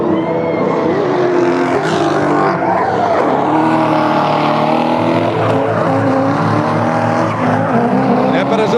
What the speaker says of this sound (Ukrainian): Так, ми бачимо, прогрівається машина.